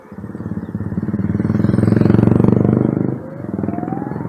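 A Matter Aera 5000+ electric motorcycle rides in second gear with regenerative braking. A loud, close, pulsing electric drivetrain whine holds steady and then drops in level and pitch as it slows, with a faint rising tone underneath.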